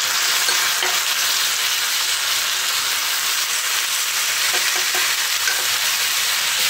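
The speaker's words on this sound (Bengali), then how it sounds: "ভালো করে একটু মিশিয়ে নিচ্ছি।" Chana and matar dal being stirred into frying onion and potato in a pan, a steady loud sizzle with scraping stir strokes throughout, no voices.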